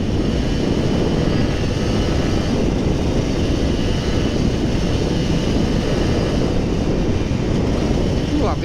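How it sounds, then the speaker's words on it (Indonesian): Heavy wind buffets the microphone during a morning ride on a Kawasaki Ninja RR 150 motorcycle, a loud, constant low roar that drowns out nearly everything else. "Anginnya kenceng banget."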